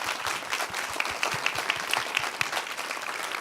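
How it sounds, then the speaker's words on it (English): Audience applause for Ben Moon and Paul Trillo at the AI-AP Big Talk design event in New York City, 2016: steady, dense clapping from a seated crowd, fairly close, with a few sharper claps standing out, no voices over it. "Please everyone give them a round of applause."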